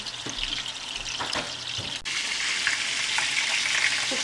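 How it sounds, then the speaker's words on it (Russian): Meatballs fry in a pan with a steady sizzle, with a few stirring knocks near the start and the hiss growing slightly louder later. "Я их постараюсь обжарить со всех сторон."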